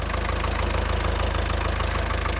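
A 1975 Land Rover Series 3 109 with its original 2.25 litre diesel engine idling, a steady, even low-frequency chug and rattle heard close up with no voices.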